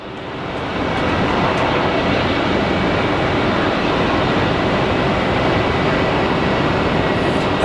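An Airbus A350 at Phoenix Sky Harbor Airport produces a loud, steady roar that swells up within the first second and then holds as a broad, dense rumble throughout.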